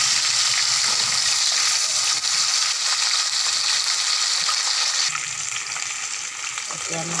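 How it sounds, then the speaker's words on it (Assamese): Fish head, rohu fish, frying in hot oil in a pan, a loud steady sizzle with broadband crackle throughout that eases slightly near the end, with occasional stirring. "এতিয়া মই ইয়াত তেল দিছোঁ, মাছৰ মাথা ফ্ৰাই কৰি ল'ম"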